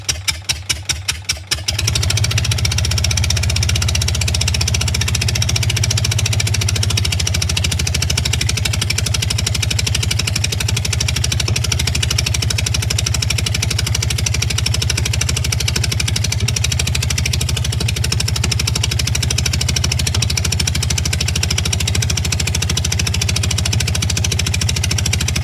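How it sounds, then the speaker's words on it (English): A cold Aeronca C3 light aircraft engine idles steadily while warming up on a damp day after a rough start, a loud continuous mid-pitched drone with a brief sputter at the very start. "Whilst the engine warms up"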